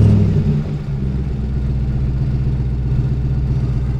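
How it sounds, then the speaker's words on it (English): A 2021 RAM TRX pickup with a MagnaFlow X-Mod exhaust system and 5-inch MagnaFlow tips rumbles steadily at idle, a deep, loud, continuous burble close by that swells slightly at the start. "We've got the MagnaFlow X mod exhaust system on here."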